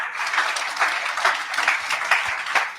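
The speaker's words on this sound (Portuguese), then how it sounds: "Dê um aplauso a Jesus." A church congregation claps steadily through a Portuguese-language worship service, the applause dense and sustained with a few sharper peaks, moderately near and with no voice over it.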